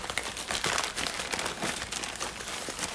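A package bound in lots of tape being opened, with a steady, close run of crinkling, crackling wrap and tape noise throughout, no talking.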